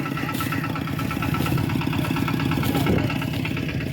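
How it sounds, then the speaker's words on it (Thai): A tractor engine churns steadily and close by, harrowing a flooded rice paddy, with a continuous loud mechanical drone and rhythmic clatter throughout. "เบิ่งรถไถคาน้ำกันเด้อพี่น้องเด้อ"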